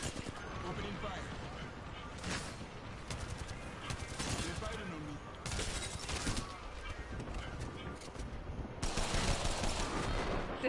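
Video game gunfire from the Raid spray weapon, dense bursts of rapid shots and fusillades in a match, continuous and fairly loud, with players talking over it.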